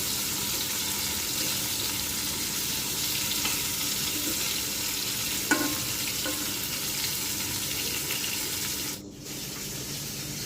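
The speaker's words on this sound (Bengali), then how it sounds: "আলু ভর্তার জন্য আমি শুকনো মরিচ ভেজে নিচ্ছি।" Dried red chillies fry in oil in a wok, giving a steady close sizzle with faint clinks of stirring, and a brief tap-water burst near the end.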